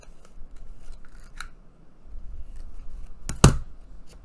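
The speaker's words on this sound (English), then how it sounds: "I'm gonna have to just nip that with my scissors" Scissors nip a paper origami geisha paperclip bookmark with one sharp snip near the end, after quiet handling and small rustles of paper.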